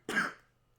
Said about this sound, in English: you started coughing